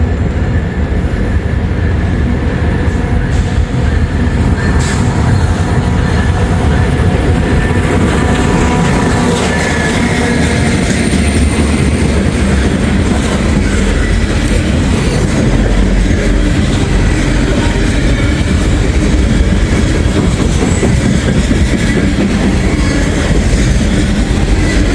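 A freight train passes very close and loud in a steady, roaring rumble of wheels and rail clatter that lasts without a break, with no talking.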